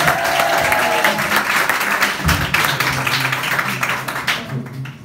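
Stand-up comedy audience applauding and cheering for a comedian, dense sustained clapping with crowd noise and shouts, loud and continuous before fading at the end.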